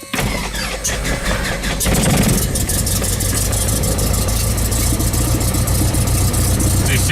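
A Cessna 172 light aircraft piston engine cranks briefly, catches, and settles into a loud, steady idle with a low throbbing drone that continues to the end.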